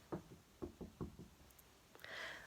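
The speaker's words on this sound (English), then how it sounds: "Touch wood, knock on wood." Knuckles rapping on wood in a house, a few quick knocks in small clusters, fairly close and crisp, followed by a brief shuffling noise, with no speech.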